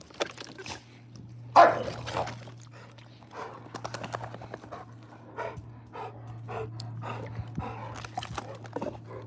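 Dogs play in water, with splashing, scrabbling and panting arriving in irregular bursts, one sharp splash louder than the rest, over a low steady hum.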